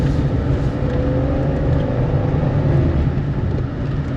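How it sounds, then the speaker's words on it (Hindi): A car engine labours steadily up a steep road in Bani Gala, Islamabad, a loud, continuous strained drone with no break and no talk over it. "ये रोड थोड़ी सी स्टीप है और फील हो रहा है जैसे गाड़ी चल रही है, जोर ले रही है।"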